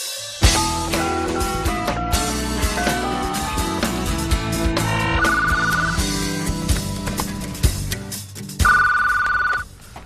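A telephone rings amid steady background music, its electronic trill standing out clearly in two bursts, one around the middle and a louder one near the end, with no voices present.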